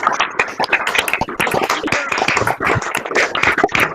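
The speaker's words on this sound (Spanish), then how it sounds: "un aplauso para todos porque nos lo merecemos" An audience gives a round of applause during an online conversation about virtual teaching, lively uneven claps from a few people close by, with brief voices mixed in.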